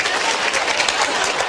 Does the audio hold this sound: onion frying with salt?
no